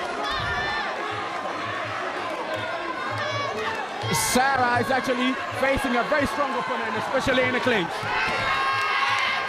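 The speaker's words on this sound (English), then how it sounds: "You can hear the crowd behind me." A crowd shouts and cheers around a women's Muay Thai bout at the Muaythai World Series, rising to loud bursts midway, beneath a commentator talking over the noise.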